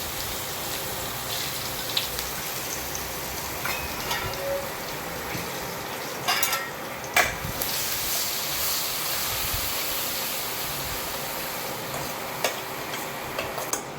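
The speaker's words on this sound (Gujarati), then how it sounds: "તેલ ગરમ થઈ ગયું છે ને, તો આપણા બધા મસાલા છે ને આપણે નાખી દઈએ. મસાલા નાખીને આપણે છે ને ડુંગળીનો વઘાર કરી નાખીએ" Steady sizzle of onions and spices frying in hot oil, with occasional clicks and taps of stirring throughout.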